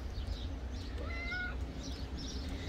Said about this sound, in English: here's the other cat, mama cat.